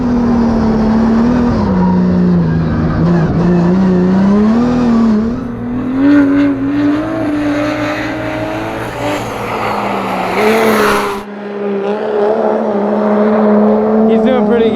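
A Formula Drift car sliding at half throttle, the engine holding a loud steady drone with wavering pitch and tire hiss, up close and dominant, with a voice talking over it.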